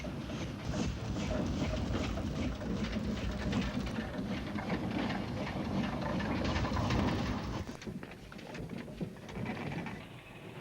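An Aveling and Porter 0-4-0 locomotive, essentially a traction engine on rails with a flywheel, used at a lime works, runs with a loud, steady mechanical rumble and clatter that eases off near the end.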